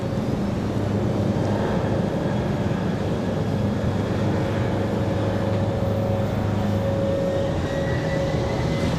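A Delta Boeing 717 jet airliner at Raleigh-Durham International Airport gives a steady, moderately loud engine roar with a faint whine. The roar holds evenly, with no voices.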